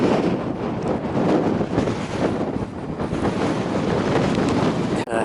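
Strong gale wind buffets the microphone on an exposed rocky mountain slope, a loud, continuous roar with gusting rumble and no speech, ending in a brief dip and thump.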